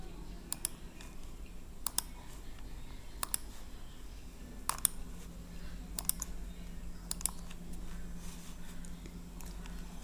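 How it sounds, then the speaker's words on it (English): Sharp computer mouse clicks while placing carbon atoms in ArgusLab molecule-drawing software, about ten crisp single and double clicks spread irregularly over a quiet room background. "to place the atoms, you have to click the right click on your mouse."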